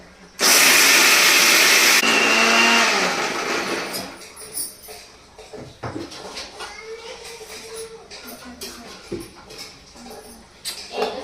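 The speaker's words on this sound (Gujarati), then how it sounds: "પહેલાં અમે આમાં મિક્સરમાં ભૂકો કરશું" A kitchen mixer grinder whirs loudly for about three seconds as it powders ingredients for a chocolate-and-peanut curry, then stops, leaving clatter and light household noise.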